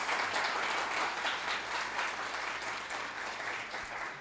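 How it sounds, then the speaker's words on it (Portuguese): Congregation in a church applauding steadily and loudly for several seconds, a dense continuous wash of clapping with no talk over it. "Você pode aplaudir ao Senhor por isso"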